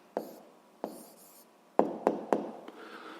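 Pen writing an answer by hand on paper during a physics homework solution, heard as a few scratchy strokes in separate bursts, close and fairly quiet, with no talking.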